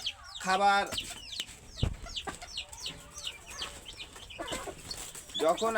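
Desi chickens cluck in short, scattered bursts close by, with occasional louder squawks breaking through a quiet background and a voice speaking now and then.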